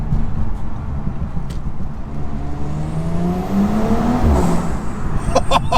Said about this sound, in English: That blow-off noise is just glorious